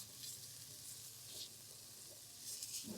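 Finely chopped carrot and yellow and red capsicum cooking in a pan over a high flame, a soft, faint sizzle with a few light stirring scrapes over about three seconds.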